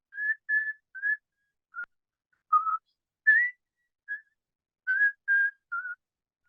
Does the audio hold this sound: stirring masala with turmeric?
no